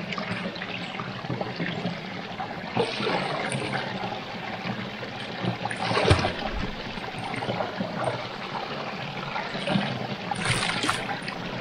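A small forest stream in the taiga, its dark tea-coloured water flowing steadily, a continuous close rush and trickle that stays even throughout with a few slightly louder splashes.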